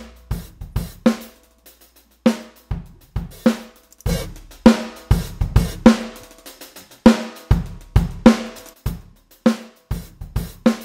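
Uncompressed drum break with sharp, punchy kick, snare and hat hits in a steady groove, loud and dry with wide dynamic swings between hits and no voices.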